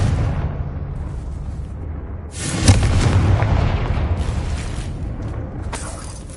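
A Confringo fire spell bursts near a ruined bridge in Hogwarts Legacy: a heavy booming explosion, with crackling debris and rumble trailing off over several seconds under steady background game sound.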